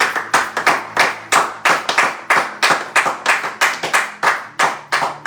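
A church congregation at a French-language Sunday service claps in a steady, loud, even rhythm at roughly two claps per second, with no talking over it.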